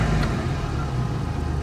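A turbocharged car fitted with an aftermarket eBay boost controller gives a steady, loud engine drone from inside the cabin, holding an even pull without speech.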